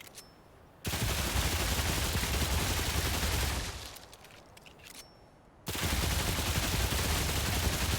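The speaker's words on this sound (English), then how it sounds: "Seems good with this like machine pistol kind of vibe." Machine pistol gunfire in the video game Remnant 2, loud sustained bursts of automatic fire with a brief drop near the middle before firing resumes, no talk over it.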